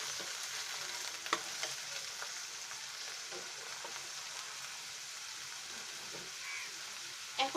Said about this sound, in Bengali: আদা বাটা হাফ চামচ দিয়ে আমরা একটু নেড়ে নেই